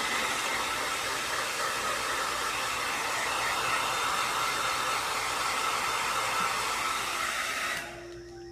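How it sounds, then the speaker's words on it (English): A blow dryer roars steadily up close for several seconds, then the airflow cuts down abruptly near the end, leaving a faint lower hum. "And I'm still using the blow dryer."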